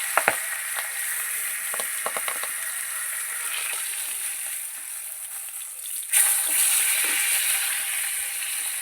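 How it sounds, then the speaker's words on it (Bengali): Pieces of boal fish fry in hot oil with a steady, dense sizzle and scattered pops and crackles, swelling louder partway through, close up. "তাও দেখুন কত ফুটে যাচ্ছে মাছগুলো"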